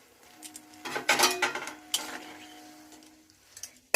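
Mola fish dropped into a pot of boiling sour mango curry, a cluster of clattering pot and utensil knocks and splashy bursts in the middle, then quieter bubbling with a couple of faint clinks, no talking.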